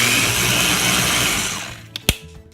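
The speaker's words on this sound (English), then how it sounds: "blend it, blend it." A Ninja blender purees butternut squash soup with cream, a loud steady whirring churn that runs for about a second and a half before cutting off, followed by a couple of brief clunks.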